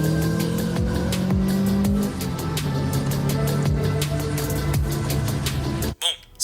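A 1990s car engine accelerates steadily up close, its droning pitch shifting as the revs climb, before cutting off abruptly near the end.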